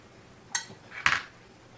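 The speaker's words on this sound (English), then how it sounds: "Just taking a spoon, digging out the pit." Spoon digging the pit out of a small peach on a tray, two brief scraping clicks about half a second apart, close and fairly quiet.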